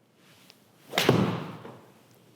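Golf iron shot with an Autoflex SF505 shaft striking the ball: a single solid thud-like impact with a short fading tail, fairly close and alone.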